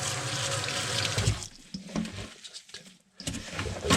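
Water poured onto dry coconut coir, a steady splashing pour at first that breaks into scattered trickles and drips, then resumes loudly near the end.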